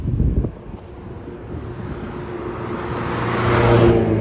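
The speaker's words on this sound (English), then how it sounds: "Wow, that car is really zooming by." A car zooming past on a commercial city street in Toronto, starting with a loud close rush, then a rising roar of engine and wind as another pass builds toward the end.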